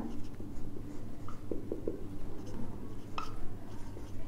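A pen writing an amount in words on paper, soft scratchy strokes in short bursts over a faint steady hum, close and quiet.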